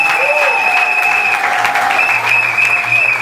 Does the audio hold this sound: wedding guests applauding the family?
yes